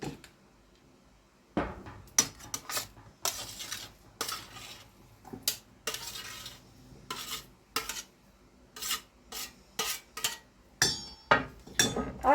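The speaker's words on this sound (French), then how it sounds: "je prends un bol et je mets ces pommes de terre écrasées dans ce bol" Mashed potatoes are scooped into a bowl with a utensil, giving a series of close, irregular scrapes, taps and clinks against the dish, separated by brief quiet gaps with no talking.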